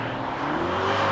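Jaguar F-Pace SVR SUV engine revving, a steady loud throaty drone with rising pitch that swells slightly toward the end, close and alone.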